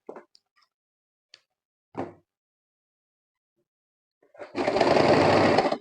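Sewing machine stitching organdy fabric for a flower, a close, loud buzzing run of rapid stitches after a few brief handling clicks and bumps in near silence.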